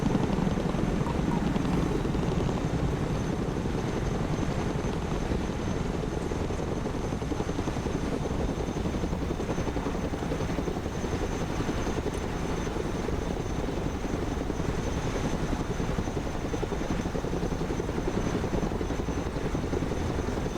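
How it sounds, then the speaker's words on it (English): A constant video game helicopter rotor and engine roar continues throughout, loud and steady with no breaks. "Let's go and recover it with our helicopter."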